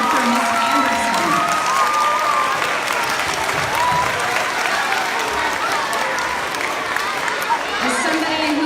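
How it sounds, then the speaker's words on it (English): Sustained audience applause and cheering for singers and their conductor at an elementary school grand opening, steady and dense across the whole stretch with crowd voices mixed in. "another big round of applause to our singers and their conductor, Miss Anderson."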